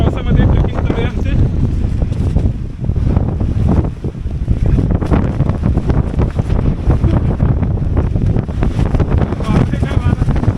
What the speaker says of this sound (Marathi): वारा आणि पावसामध्ये ट्रेकिंग चालू आहे आमचे